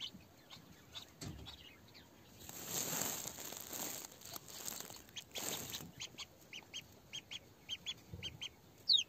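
Indian Runner ducklings peep in short, high, repeated bursts at close range, quiet and intermittent, mixed with rustling and crinkling handling noises in the middle.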